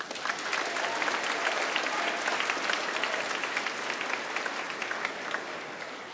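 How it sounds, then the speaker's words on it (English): A school assembly audience at Keene High School claps for a list of named students: a full, dense round of applause from many people that holds steady and loud for about six seconds before easing slightly. "let's give them a round of applause"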